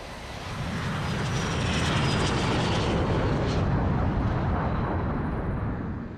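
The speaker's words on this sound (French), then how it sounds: "La chasse soviétique rôde." Soviet fighter aircraft engines roar in a loud, sustained rumble that swells and fades as the planes pass close by, with no voices.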